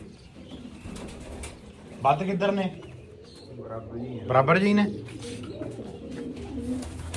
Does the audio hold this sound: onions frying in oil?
no